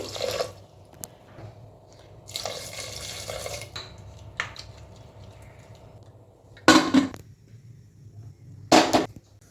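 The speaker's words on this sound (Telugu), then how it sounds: "అలాగే వాటర్ అయితే వేసుకుంటున్నాను" Water is poured into a pot of lentils with tamarind leaves, onion, green chilli and turmeric in a home kitchen. There are a few soft splashes and then two short, loud bursts of pouring that stop abruptly.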